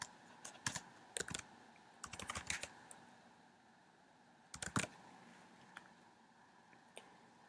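Close, quiet typing on a computer keyboard during iPhone and iPad programming. Clicks come in a few short clusters with pauses between them and no voice over them.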